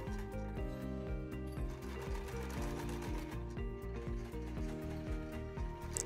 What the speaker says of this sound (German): Nähe die Teile mit 1 cm Nahtzugabe zusammen.